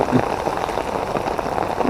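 Steady rain falls during a weekend fishing session, a dense, even hiss of drops pattering on surfaces, close and continuous throughout with no clear voices.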